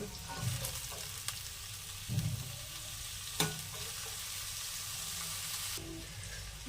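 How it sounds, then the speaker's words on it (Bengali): Vegetables fry in white oil in a wok, a steady close sizzle with a few soft scrapes and clinks from stirring, no voices. "কড়ার মধ্যে সাদা তেল দিয়ে দিয়েছি। এবার সব সবজিগুলো আমি ভেজে নেব।"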